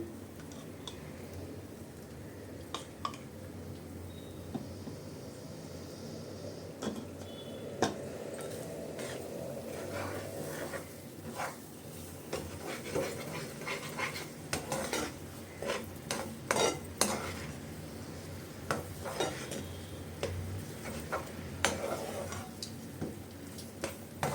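Ragi kesari with ghee being stirred in a pan on the stove, a spoon scraping and tapping against the metal in irregular bursts that grow busier toward the end, close and fairly quiet.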